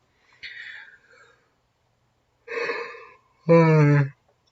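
A drawn-out, voiced yawn rising at the end, preceded by a couple of softer breathy sighs; close and fairly loud, no other sounds.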